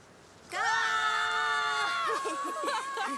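Characters screaming together in the video game A Plague Tale: Requiem, a sudden loud sustained shriek lasting over a second, followed by shorter shrill cries.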